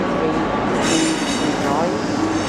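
A CrossCountry high speed train pulls into Leeds station with a loud steady rumble and a rising engine whine, the noise filling the platform briefly.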